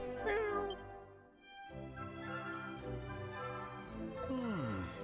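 A cat meows in the video game Dragon Quest VII Reimagined, with a drawn-out meow at the start and another falling meow near the end over steady game music.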